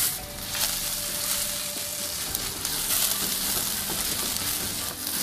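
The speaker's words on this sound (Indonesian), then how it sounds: "Minyak panas, kemudian tumis bawang putih dan jahe." Garlic and ginger sauté in hot oil in a wok, giving a loud, continuous close sizzle with a few faint stirring scrapes, and no one speaks.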